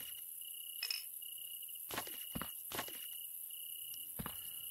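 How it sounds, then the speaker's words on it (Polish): Steady high cricket chirring runs through the whole stretch in an evening scene from the Recycling Center Simulator game, faint and constant, with a few soft footstep-like thumps and brief rustles breaking in. "trochę tam już świerszczyki zaczynają świerszczyć"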